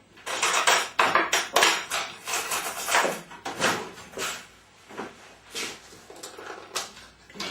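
A fork scrapes and clinks against a bowl while working butter, sugar and cinnamon together, giving repeated uneven taps and scrapes close by.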